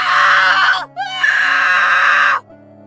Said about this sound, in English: The boy kept screaming for help, but no one turned up this time.